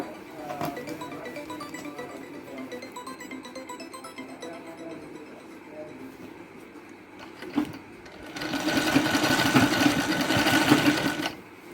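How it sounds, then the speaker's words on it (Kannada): Sewing machine stitching a sleeve onto a kurti, running in short steady whirring runs, then a louder, faster continuous burst of stitching near the end, close and without voices. "ಸ್ವಲ್ಪ ಸ್ವಲ್ಪನೇ ಇಟ್ಕೊಂಡು ನೋಡಿಕೊಂಡು ನೋಡಿಕೊಂಡು ಸ್ಟಿಚ್ ಮಾಡಬೇಕು"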